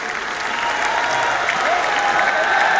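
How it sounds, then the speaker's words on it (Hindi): Audience at an honouring ceremony for organ donor families in Surat, Gujarat, clapping to welcome a guest: dense, sustained applause from a crowd, steady and building slightly, with a faint voice underneath. "आइए जोरदार तालियों से हम आमंत्रित करें आदरणीय श्री मोहन जी भागवत को।"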